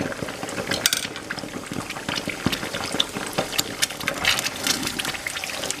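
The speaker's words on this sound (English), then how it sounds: "Quickly stir them before they start pumping around the house." Meatballs are stirred in tomato sauce in a cooking pot, with wet bubbling and sloshing and irregular clinks and scrapes of a spoon against the pot.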